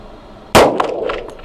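A single sharp gunshot from an HK P7 pistol fired left-handed at a target 42 meters away, a loud abrupt crack followed by a brief ringing decay and faint echo.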